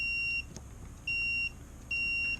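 Continuity beeps from a multimeter testing the contacts of a Hyundai brake light switch, three steady electronic tones each lasting about a third of a second, evenly spaced and clear over low background hum.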